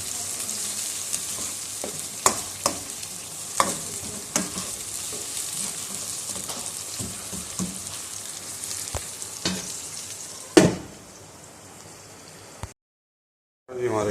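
Tomato masala with a pinch of cumin sizzles and fries steadily in a pan, with repeated sharp scraping clicks of a spoon stirring it; the sizzle stops abruptly near the end.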